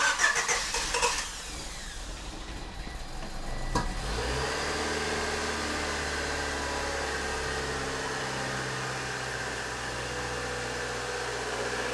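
A car engine cranks and catches, then settles into a steady, fairly loud idle that sits high and even after the start.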